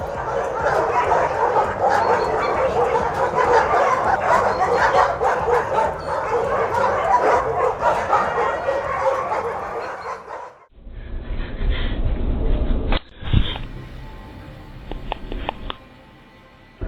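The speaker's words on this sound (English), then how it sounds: "The dogs just want to say that they want to sleep and don't feel like guarding the house." Several dogs at a house bark and whimper in a dense, continuous jumble for about ten seconds, then a lower, rumbling stretch follows with a sharp knock partway through.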